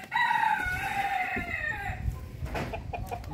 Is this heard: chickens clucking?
yes